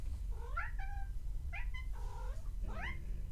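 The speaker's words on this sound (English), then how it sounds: "Oh, my cat's outside." A cat outside a window meows four times, drawn-out and wavering, fairly near but quiet, over a low steady background rumble.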